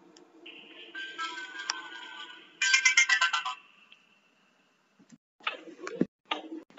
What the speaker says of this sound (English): Battery low, turn off the phone.